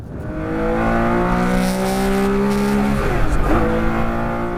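A Porsche 911 SC 3.0 historic rally car at a Flanders rally stage, its engine holding a loud, steady raspy note before rising in revs, close by.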